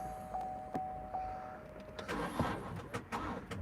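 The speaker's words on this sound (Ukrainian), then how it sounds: "Хотіла завестися і потухла. Попробуємо ще раз." The 1.6 diesel engine of a 2012 Opel Meriva cranks briefly and fails to catch, with a few faint clicks before it. The sound stays quiet and close.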